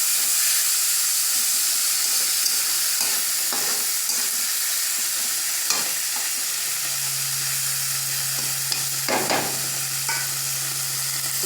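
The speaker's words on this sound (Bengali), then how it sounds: "একসাথে সব দিয়ে দিলাম, একসাথে দিয়ে নাড়াচাড়া দিয়ে দিচ্ছি সবটা।" Onion, garlic and green chili stirred together in a frying pan, a constant loud hiss of frying oil with occasional spatula scrapes and a low hum near the end.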